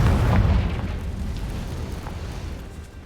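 A Confringo spell explodes in the video game Hogwarts Legacy, a single loud, close blast with a deep rumbling boom that slowly fades out over a few seconds.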